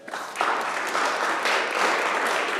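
An audience at a city council meeting applauds student athletes, with dense, steady clapping that fills the whole stretch at a moderate level and carries no voices.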